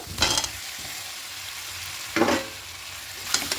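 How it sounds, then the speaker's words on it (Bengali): Fried potatoes being stirred with spices in a pan: a low steady sizzle broken by three short bursts of spatula scraping against the pan, no voices. "সব কিছু এবার একসঙ্গে খুব ভালো করে মিশিয়ে নেব মিশিয়ে নিয়ে আর একটু কষে নেব"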